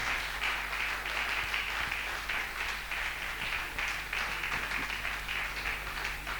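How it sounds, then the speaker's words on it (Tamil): Applause at a family conference honouring ceremony, a dense sustained clapping from a large audience that holds at an even level throughout and is heard without talking. "அப்படிப்பட்ட பாஸ்கருக்கு எப்படி ஒரு கைத்தட்டு கொடுத்துருக்கணும்"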